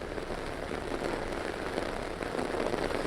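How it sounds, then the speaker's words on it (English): Heavy rain pours down steadily on an outdoor news location at a logistics site in Greater Cincinnati, a dense, loud, continuous hiss and patter of drops with no voices over it. "it is currently dumping rain here at Verse Logistics"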